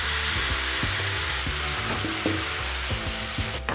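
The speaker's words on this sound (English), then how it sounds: "And now we're going to use the marinade. Now cook it in the fat." Chicken pieces and potatoes, browned to a golden colour, fry in hot fat with marinade poured in, giving a loud, steady, close sizzle with scattered pops and crackles throughout, no voices.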